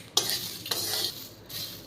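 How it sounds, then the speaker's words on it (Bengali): A spoon scrapes and stirs hair-remedy ingredients frying in a pan until they turn black, with two sharp metallic knocks against the pan over a soft continuous sizzle. "এটাকে একেবারে কালো করে ভেজে নেব।"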